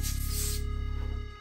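A hand pump inflating a long 260 latex twisting balloon, a loud, close, rapid rhythmic whooshing of air pushed through the nozzle in quick pulses, easing off at the end, with no speech.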